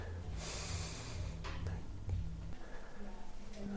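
A person takes a deep audible breath in during a hip-focused myofascial fitness exercise, a steady airy inhalation heard up close over low background noise, with a brief snort-like catch partway through.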